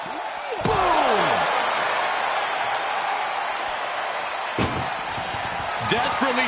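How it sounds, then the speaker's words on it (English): Ambulance door slammed shut in the WWE 2K24 wrestling game, a loud metallic slam with ringing follow-through over arena crowd noise, with two later slams fainter and shorter; a commentator talks throughout. "If they can slam this door shut, it's over."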